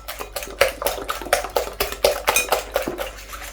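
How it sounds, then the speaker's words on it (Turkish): Eggs beaten with salt in a bowl by fast whisking make a rapid, steady series of close clinking strokes that keep going throughout. "Yumurtanın kokmaması için tuzla yumurtayı olabildiğince hızlı çırpıyorum."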